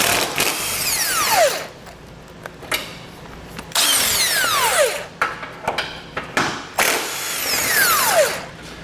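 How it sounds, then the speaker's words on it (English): A power tool with a 15mm socket removes the bumper beam bolts on a 2021 Buick Encore. It gives three loud, close bursts, each whirring up and winding down, with short pauses and light clanks between them. "We're going to leave the top outside corner bolt in place and remove the other 3. We're going to do this on both sides using a 15mm socket."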